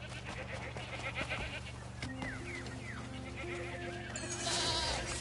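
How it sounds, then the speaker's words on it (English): Wild goat bleating in the video game Crimson Desert, a series of wavering bleats in the middle of the clip over steady game ambience, with a louder rush of sound near the end. "Catch a wild goat."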